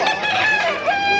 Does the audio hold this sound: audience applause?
no